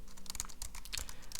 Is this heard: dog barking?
no